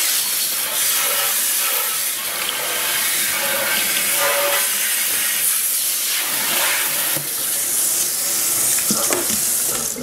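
Running water sprays and rinses cleaner off a stainless steel surface, a steady, loud, hissing splash that carries on with no pause.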